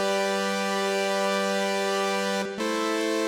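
A synth pad on an initialized patch with reverb holds one steady, bright sustained chord, briefly cut off for a moment near the end before ringing on alone.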